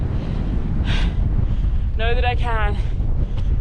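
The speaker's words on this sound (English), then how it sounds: "It's really quite windy." Strong wind roars steadily across a microphone on an exposed mountain ridge, a continuous low rumble that persists throughout while a person speaks briefly over it.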